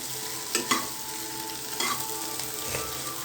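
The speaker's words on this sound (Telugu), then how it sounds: "ఇప్పుడు బాగా మిక్స్ చేస్తుంది." Spiced pieces frying in a pan, a steady close sizzle with several scraping stirs of a utensil breaking through at intervals.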